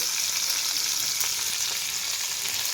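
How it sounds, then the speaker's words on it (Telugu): Cumin, mustard seeds, green chillies and onions fry in hot oil for a ridged gourd and moong dal curry, giving a steady, close, loud sizzle with no talk. "వేసి కాసేపు ఫ్రై చేస్తూ ఉండాలి"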